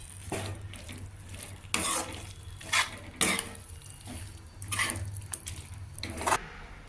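A spoon stirs bitter gourd curry with sesame spice powder and fresh chopped coriander in a pan, giving repeated scraping strokes and clinks against the metal over a faint sizzle.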